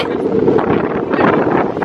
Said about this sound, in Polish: bije deszczem, bije wiatrem